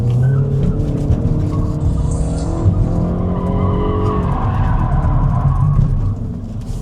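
A 2026 MINI Cooper S driven hard in go-kart mode at night, its engine droning loud and steady close by, with tires squealing and rumbling throughout and no talk.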